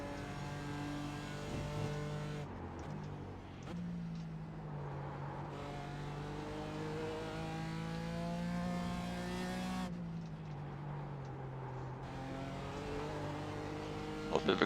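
A GT4 race car engine in iRacing at Sebring drones steadily, its pitch rising through the gears with brief drops at upshifts and a lift off the throttle, loud and continuous.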